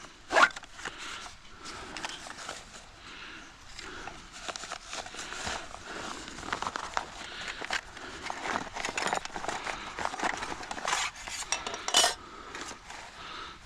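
An Alpkit compact wood stove being unpacked from its canvas drawcord bag: close rustling of fabric, zip-like drawcord rasps and light metallic clinks and knocks of stove parts.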